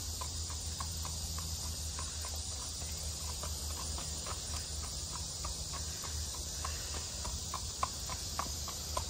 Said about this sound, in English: She's a 6-year-old mare.